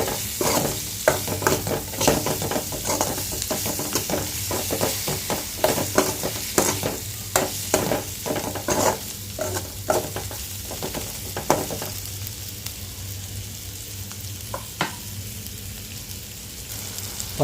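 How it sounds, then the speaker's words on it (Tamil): Tomatoes sauté in a pan with a steady, loud sizzle as a spoon stirs them, giving a busy run of scraping clicks that thins out toward the end, leaving mostly the frying hiss. "தக்காளி வந்து நல்லா மசிஞ்சு வரட்டும், அந்த அளவுக்கு நல்லா வதக்கி எடுத்துக்கலாம்"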